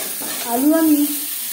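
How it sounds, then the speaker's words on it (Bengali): Boiled new potatoes fry with salt and turmeric in a pan, giving a close, even sizzle, while a short voice-like tone rises and falls over it midway. "নতুন আলু আমি কেটে নিয়েছি, তারপর সেদ্ধ করে নিয়েছি। লবণ হলুদ দিয়ে ভেজে নিলাম।"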